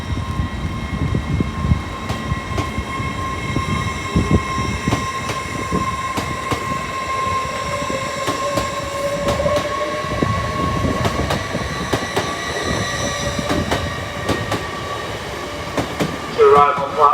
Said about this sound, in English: Next out, the 1211 LNER Azuma from London King's Cross to York.